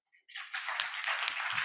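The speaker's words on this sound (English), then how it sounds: "let's give our speaker a round of applause" A conference audience at an Islamic social finance session breaks into applause, the clapping quickly building from silence into a brisk, close patter of many hands.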